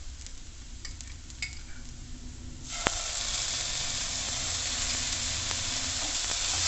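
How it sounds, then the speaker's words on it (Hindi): Onion frying in a pan hisses quietly at first, then after a sharp clatter, a fresh dollop of ginger garlic paste sets off a louder, fuller sizzle that keeps going steadily. "1 अनियन हल्का फ्राई हो जाने पे इस पर मैं डाल दूँगी 1 टीस्पून के करीब जिंजर गार्लिक पेस्ट।"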